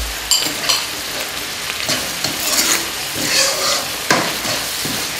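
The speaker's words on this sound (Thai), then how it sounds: "เราก็คั่วคนไปเรื่อยๆนะ" Shrimp paste mixture stir-fried in a pan for a Lao coconut rice noodle sauce: a steady sizzle runs under repeated scraping stirs of the utensil, close by, with no voices.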